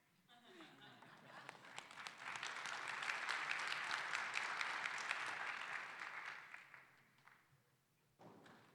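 An audience at a valedictorian event applauds a retiring teacher honored as Rotary Teacher of the Year, clapping swelling into a full, sustained ovation before fading away, with voices under it.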